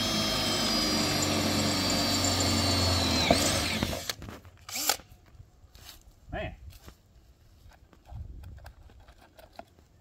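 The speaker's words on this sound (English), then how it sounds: "I gotta drill some holes at the bottom of these pipes to let that water out." A power drill bores holes into the bottom of metal high tunnel pipes, whining steadily for about four seconds before stopping, followed by scattered clanks and handling noises nearby.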